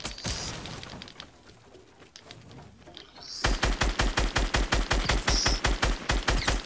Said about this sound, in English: You're gonna keep on shooting at me